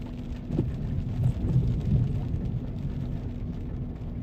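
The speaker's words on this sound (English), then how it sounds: "More thunder a second ago." Rain falls steadily during a Miami spring thunderstorm, a continuous wash with low rumbling thunder rolling underneath, a swell building near the middle before easing back; no voices.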